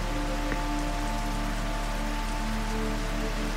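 Steady rain falls and patters on surfaces throughout, a dense, even hiss with a faint low hum underneath and no voices.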